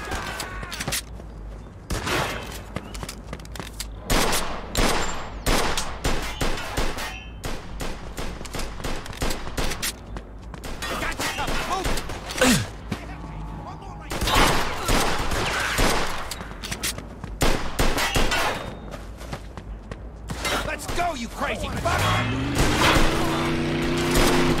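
Gunfire in the Mafia II Definitive Edition video game: repeated loud bursts of rapid shots and single cracks over about twenty-five seconds, with brief lulls, some mechanical clatter, and occasional voices between shots.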